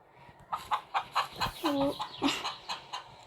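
A chicken in Farming Simulator 23 clucks in a quick rhythmic series of short, close calls, with one drawn-out squawk in the middle.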